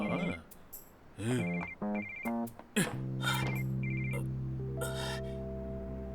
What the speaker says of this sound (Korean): 갑자기 웬 전화야?